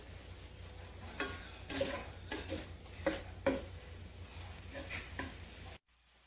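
Chicken shepherd's pie filling with Worcestershire sauce is stirred in a pot, giving a handful of scraping, clattering strokes over a low steady sizzle before everything cuts off at the end.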